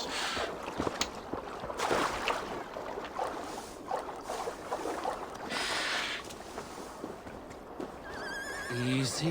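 In a video game, a horse whinnies and snorts amid hoof clip-clop and ambient effects, while a voice talks over the top; fairly quiet overall.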